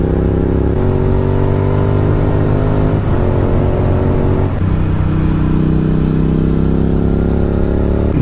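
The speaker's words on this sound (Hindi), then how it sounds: "भाई लोग अपनी GT का सुन रहे हैं एग्जॉस्ट नोट।" Royal Enfield Continental GT650 motorcycle exhaust revving up close, a loud, continuous throbbing twin-cylinder note whose pitch rises and dips through several throttle blips over eight seconds.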